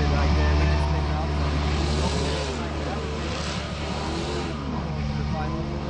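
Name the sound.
rallycross car engines starting up at the pre-grid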